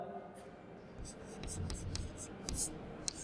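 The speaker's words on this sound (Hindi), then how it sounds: "इसको हम ऐसे लिखेंगे" Pen or chalk writes decimal numbers for a grade 6 maths lesson. The strokes are short, scratchy and separate, sounding close up over a quiet background, with a faint voice under them.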